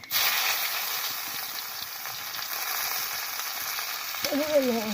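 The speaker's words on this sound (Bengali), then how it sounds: "তাওয়ার উপরে তেল গরম করে দিয়ে দিচ্ছি একটু কাঁচা জিরা, তারপর দুটো তেজপাতা" Cumin seeds and bay leaves fry in hot oil on a griddle, a steady close sizzle that runs throughout, with a brief bubbling, wavering tone near the end.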